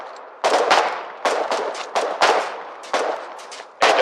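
Gunfire from weapons in a wartime video game, loud close bursts of rapid shots in irregular clusters separated by brief quiet gaps, with no talking.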